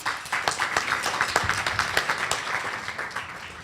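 Audience applause at a forum on the minimum wage, a steady patter of many hands clapping at moderate level for several seconds with no talking over it.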